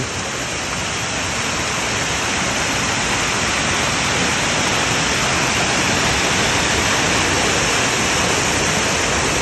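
Whatcom Falls in Washington roars as a steady, loud, broadband wash of falling water along a walking trail, unbroken and with no voices.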